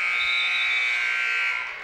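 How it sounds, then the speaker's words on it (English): Buzzer sounding at the end of a high school wrestling match between Shawnee and Cherokee, a single loud steady electronic tone lasting under two seconds and fading at the end. "That's right, and with that buzzer"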